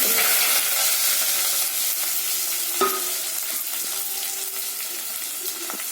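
Onions sizzle loudly in sesame oil with cinnamon, cardamom, cloves and fennel, a dense continuous crackle with a sharp utensil clink midway, close and without talk.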